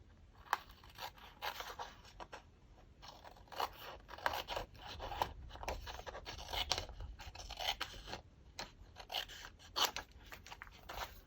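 Scissors cutting a paper gift tag, a series of quiet close snips and scraping rasps in irregular rhythm, with no talking.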